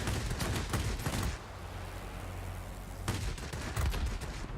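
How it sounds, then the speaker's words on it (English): Gunfire from a Soviet Yakovlev Yak-3T fighter in World of Warplanes, rapid crackling bursts at the start and again near the end with a steadier drone between, fairly faint and without talk. "just a few more shots and we'll have him"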